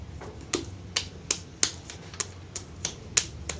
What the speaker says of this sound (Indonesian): Lempung ini untuk mau buat ini ditepuk-tepuk dulu biar pori-porinya mengecil